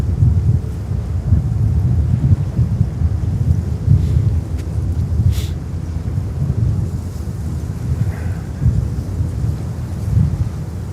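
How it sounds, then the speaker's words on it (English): Strong wind at JFK airport in New York in arctic cold, a loud, continuous low roar and buffeting of the microphone that surges and eases throughout, with no voices. "I thought the wind is getting less, but the wind has picked up again."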